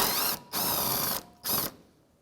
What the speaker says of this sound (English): with a 10mm socket, we're going to remove this last bolt holding the bumper in place